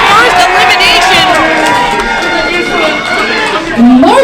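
A wrestling crowd yells and shouts continuously at a submission hold, loud and close, with overlapping voices and cheers and a commentator talking over them.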